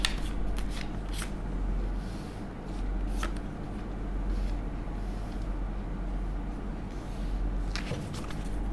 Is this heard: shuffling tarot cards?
yes